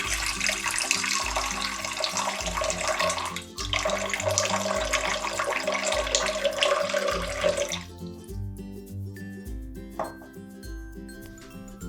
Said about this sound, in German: Für unseren Hauptteig gebt 400 Gramm lauwarmes Wasser in die Schüssel.